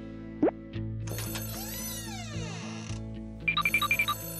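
A telephone rings in a short burst of rapid, bright electronic pulses near the end, after a few quieter indoor clatters and tones.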